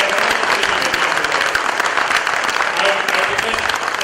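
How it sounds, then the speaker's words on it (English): Loud, sustained applause from a crowd at a talk on Panchakarma, dense steady clapping that fills the whole stretch without a break. "So, ladies and gentlemen, can we give a big round of applause to Dr. B."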